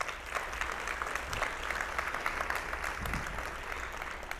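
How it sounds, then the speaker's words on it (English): Steady audience applause fills a breakfast event honoring school district graduates, a dense wash of clapping at moderate level throughout with no speech over it. "Round of applause for our graduates."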